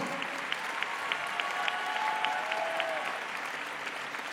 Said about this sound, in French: je demande de les applaudir et de saluer l'idée géniale qu'ils ont eue